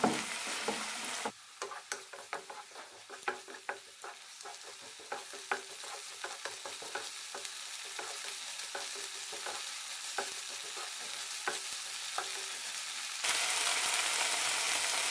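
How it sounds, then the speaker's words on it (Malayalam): Tomatoes sautéing in oil for paneer kurma, a continuous close sizzle broken by frequent scraping stir strokes in an uneven rhythm, with no voices. "രണ്ട് മിനിറ്റ് നന്നായി വഴറ്റി കൊടുക്കാം തക്കാളിയിൽ വെള്ളമെല്ലാം വെറ്റി എണ്ണ തെളിയാൻ തുടങ്ങണം"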